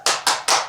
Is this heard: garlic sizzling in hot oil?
no